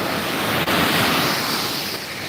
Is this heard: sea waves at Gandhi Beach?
yes